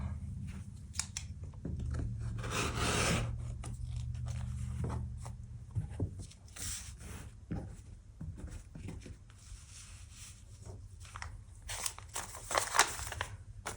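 Quilt paper piecing for a candy corn block is trimmed to a quarter inch with a cutter or scissors, giving close, crisp cuts, rustling paper and scraping strokes in short bursts throughout, without any talk.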